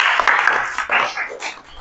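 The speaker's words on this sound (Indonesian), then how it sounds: "Tepuk tangan dulu bagi kita semua." A class of students gives a short burst of applause in a room, with clapping rising and fading quickly amid some scattered voices.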